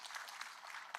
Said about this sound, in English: Can you clap for the CS?